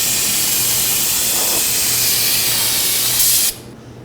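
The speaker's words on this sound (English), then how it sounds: "Now I'm going to take some brake cleaner and clean the whole area before I reinstall my parts." Aerosol brake cleaner sprays steadily onto the rear drum brake area of a 2014-2019 Nissan Sentra, making a loud, close, continuous hiss for about three and a half seconds before it cuts off abruptly.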